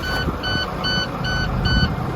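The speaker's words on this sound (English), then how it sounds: "That beep you hear is our oil pressure warning, and it went away immediately" An oil pressure warning beep in a truck cab sounds in four evenly spaced pulses over a low engine rumble.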